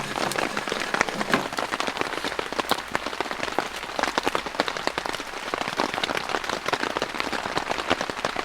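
Heavy rain pours down on a deep-forest camp, a dense, constant patter of drops drumming on surfaces. It is close and loud, with no voices throughout.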